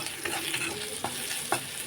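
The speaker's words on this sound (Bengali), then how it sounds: "এখানে যে টমেটোটা ভেজে নেব।" Green tomatoes frying in a pan over a wood fire in a village kitchen, a steady close sizzle broken by three distinct stirring clacks spaced about half a second apart.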